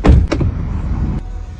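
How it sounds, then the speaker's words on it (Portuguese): A car door swings and thumps without latching shut, a short loud knock followed by a softer rattle and a low idling rumble nearby. "A porta não fechou, cara."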